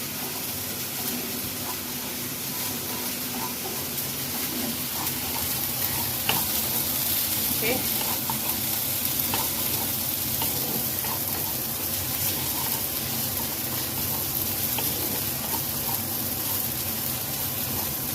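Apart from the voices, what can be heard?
spice masala being sautéed and stirred in a pan for malai egg curry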